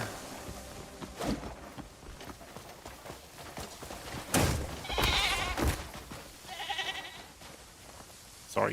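Goat bleating in the open-world game Crimson Desert, a few short cries standing out over game ambience and hoofbeat-like clopping, with louder bursts in the middle and near the end.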